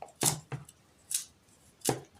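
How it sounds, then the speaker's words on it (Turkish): A knife chops fresh kaldırık herb for pickling on a cutting board, with four sharp, separate, close strikes spaced unevenly and no talking. "hepsini doğrayacaksın"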